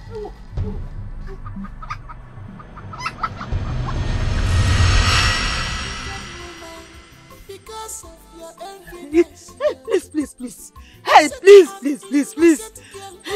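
A chicken clucks close by in a rural village setting near firewood, a quick run of short sharp clucks in the second half, preceded by a rising and fading noisy swell.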